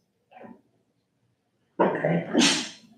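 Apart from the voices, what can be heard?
sneeze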